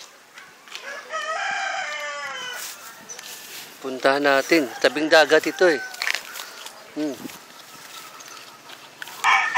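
Birds call by the seaside in a rapid run of rising, crowing-like cries, with more calls scattered throughout and someone talking over the later part.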